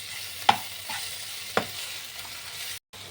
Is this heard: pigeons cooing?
no